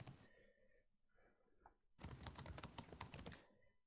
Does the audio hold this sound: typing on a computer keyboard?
yes